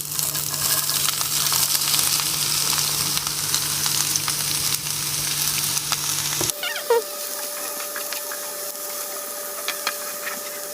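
Chopped carrot, onion, ginger, garlic and green chilli frying in hot oil with mustard seeds for a turkey egg recipe, a loud steady sizzle that drops sharply after the vegetables go in, then a quieter crackle with faint stirring.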